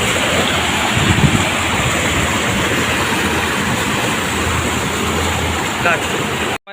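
Electric pump motors run at the 21-vent sluice gate at Bhabodah, Jessore, making a steady, loud, unbroken roar. The noise is mixed with rushing water, and faint voices sit underneath it until it cuts off abruptly.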